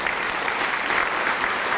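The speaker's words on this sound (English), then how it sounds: "How about a round of applause for City Place?" An audience at a Celebration of Women event in a pavilion at City Place applauds, a steady, dense wash of many hands clapping close by, sustained at an even level without a break.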